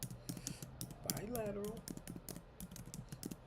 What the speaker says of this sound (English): I'm typing that in.